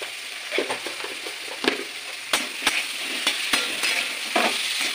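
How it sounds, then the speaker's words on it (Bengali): Potatoes fry in a pan with salt and turmeric, giving a steady close sizzle broken by several sharp clacks and scrapes as a spatula stirs them. No one speaks. "নুন হলুদ দিয়ে আমি ভেজে নেবো"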